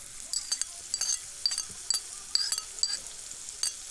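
Onions and peppers frying in a pan as they are stirred, giving a soft hiss with repeated light scraping and clinking taps of a utensil up close, fairly quiet and without talk.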